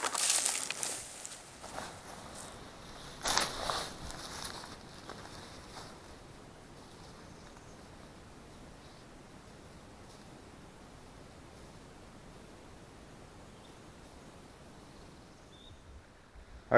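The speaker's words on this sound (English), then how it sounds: "I love the sound of babbling waters. That's just an inviting little stream down there." A soft, steady wash of a babbling stream at Big South Fork, faint and continuous, with a few brief louder rustles near the start.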